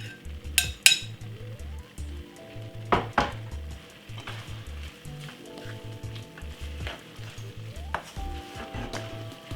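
Cabbage sizzles gently as it fries in a pot, with a soft continuous crackle broken by a few sharp clinks of a utensil against the pot.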